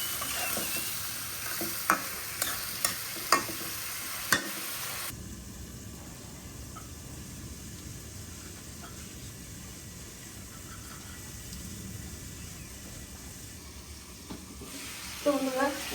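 Spatula scrapes and stirs papaya curry with spices and rohu fish in a pan, a few sharp clacks early on, then a steady soft sizzle of cooking underneath for the rest.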